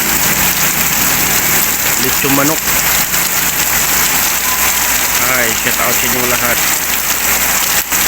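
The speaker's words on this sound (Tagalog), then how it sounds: "Grabing ulan, napakalakas." Heavy rain pours loudly and steadily on surfaces, a dense hiss throughout, while someone talks briefly over the downpour.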